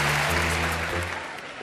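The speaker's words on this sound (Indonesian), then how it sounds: "Kalian tepuk tangan kenapa?" Audience applause from a campus crowd at an Indonesian television talk show taping, steady and loud for a moment before fading away.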